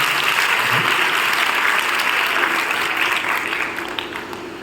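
An audience at a girls' college talk claps in sustained, dense applause that tapers off slightly toward the end.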